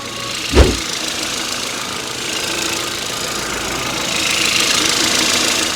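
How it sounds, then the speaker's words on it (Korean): A used Hyundai Veloster's engine idles with a steady, even rumble and hum, close by, free of odd noises, after a brief thump at the start. "이제 이 차량 바로 엔진 소리 한번 들려드리도록 하겠습니다"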